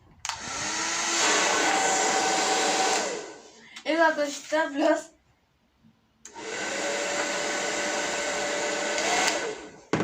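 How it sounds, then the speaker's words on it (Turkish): A hair dryer blows loudly and steadily, cuts off for a few seconds of speech, then switches back on and runs again for several seconds. "Evet arkadaşlar fön makinemizi açalım."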